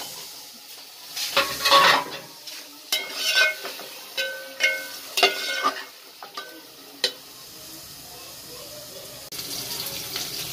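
Masala with tomato being stirred and fried for a simple pulao, with water added to keep the chillies from burning: a run of sharp spoon scrapes and bursts of sizzle, loudest early, easing into a quieter hiss toward the end.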